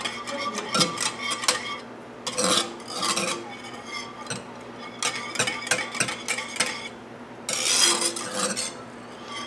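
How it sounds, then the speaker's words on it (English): A spoon stirs pineapple lemonade in a pitcher, making repeated bursts of clinking and scraping against the container in a steady back-and-forth rhythm, close and fairly loud. "And then give that a good stir."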